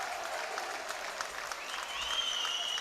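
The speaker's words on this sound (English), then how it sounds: "An ovation from the crowd." Crowd at a college swim meet, the Bucknell Invite, applauds steadily after a 500 freestyle win, sustained clapping with a few voices and whistles rising toward the end.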